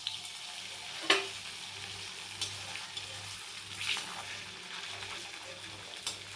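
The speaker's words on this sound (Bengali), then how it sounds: "তেল গরম হয়ে গেছে। এবার আমি একটা একটা করে ভেজে নেব" Pieces of chhana fry in hot oil, a soft steady sizzle with occasional sharper pops and stirring clinks, close and fairly quiet, with no talking.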